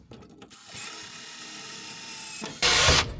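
A dulling drill bit grinds into metal while a custom shift gate for a Studeamino's three-on-the-tree column shifter is fabricated, a steady high whine for about two seconds, then a louder, harsher burst as the bit bites before stopping.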